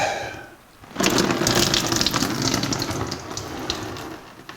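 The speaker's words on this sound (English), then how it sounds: "there's not much coolant in that block, although it's still running out of the water pump" Coolant running out of the engine block and water pump of a 1984 Jeep CJ7, a steady close splashing gush that starts abruptly after a quiet moment and keeps flowing.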